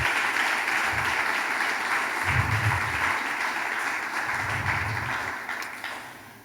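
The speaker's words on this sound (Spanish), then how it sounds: "Da un aplauso por eso, gloria a Dios." A church congregation applauds steadily for several seconds, a dense wash of clapping with low murmurs swelling beneath it at moments.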